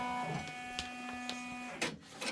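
An embroidery machine starts stitching a freestanding pumpkin quilt block, with a steady electrical hum and tonal whine broken by several short, sharp mechanical ticks and a louder clatter near the end.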